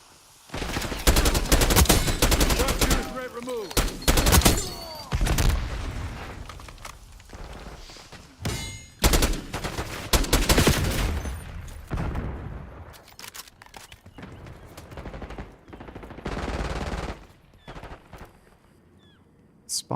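Gunfire from a shooter video game, with dense bursts of automatic fire and single shots recurring across the whole stretch, loud and close, broken by short quieter gaps.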